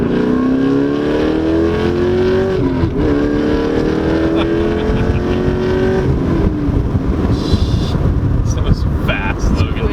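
A tuned 2016 Chevrolet Camaro SS with headers, mid-pipe and full exhaust, running E85, accelerating hard, engine pitch rising through gear shifts in a sustained roar, then easing off as it passes.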